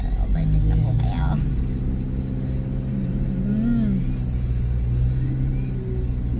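Car overtaking on a road near Nasugbu, Batangas: a continuous engine rumble and road roar with some rising revs, heard from inside the vehicle beneath people talking.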